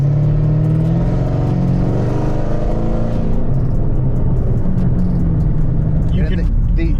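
A ZL1 car fresh from dyno tuning accelerates on the road, its deep engine drone running steadily close by beneath people talking inside the cabin.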